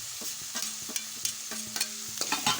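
Chilli-coriander paste being stirred into onion-greens upma in a pan, with a steady sizzle broken by repeated scraping strokes of a spoon, close and fairly loud, no voices.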